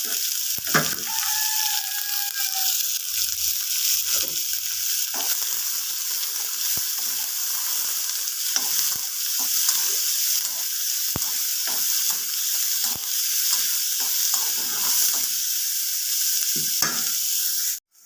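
Mustard seeds, curry leaves and chopped onion, garlic and ginger fry in hot oil, giving a loud, steady sizzle peppered with sharp crackles and pops and intermittent spatula clicks throughout, with no speech.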